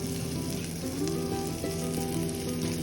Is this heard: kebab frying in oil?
yes